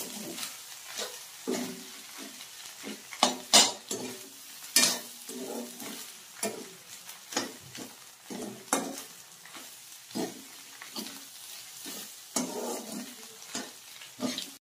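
Egg frying in a pan, with soft continuous sizzling broken by irregular scraping stirs of a spatula against the pan, close and fairly quiet.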